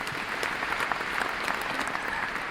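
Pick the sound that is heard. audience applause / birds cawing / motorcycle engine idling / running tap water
audience applause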